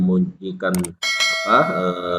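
A short bright notification bell sound effect rings out, followed by a sustained ringing tone with a voice-like swell mixed in.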